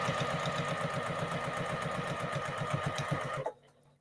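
A sewing machine stitches fabric with a fast, rhythmic mechanical chatter, running close and steady for about three and a half seconds before stopping abruptly.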